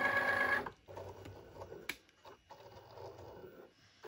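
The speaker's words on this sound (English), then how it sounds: "As you see, it's measuring it." A Cricut cutting machine measuring for a print-then-cut job on card stock gives a whirring carriage buzz at first, then quieter mechanical shuffling and clicks, close-up and fairly soft, with no voices.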